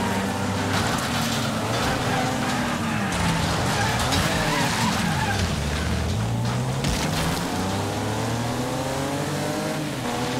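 Race cars in the Wreckfest destruction arena: engines rev and drone with sliding pitch sweeps, tires skid and bodies scrape and clatter in a dense, continuous mix, with a voice faintly underneath.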